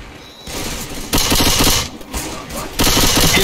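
Gunfire in the video game Dying Flame comes in loud, dense bursts of rapid shots, crackling and close, separated by brief lulls.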